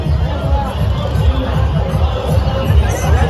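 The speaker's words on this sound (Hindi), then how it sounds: "भीड़ है देखियो तो जबरदस्त है" A dense crowd bustles at a Durga Puja festival fair, with steady babble and loud overlapping voices close by and a constant hum underneath.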